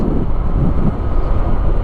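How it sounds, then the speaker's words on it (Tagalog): Strong wind roars and buffets loudly and constantly during a motorcycle ride, a rushing gusty noise of air blasting past at speed. "Grabe naman kasi yung hangin, oh."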